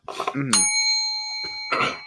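A single bell is struck once, giving a bright ringing tone that sustains for about a second before fading, with people talking just before and after it.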